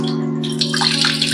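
Water pours into a cooking pot of kadhi on a stovetop set to full flame, a steady rushing splash lasting over a second against a constant low hum, with no talking.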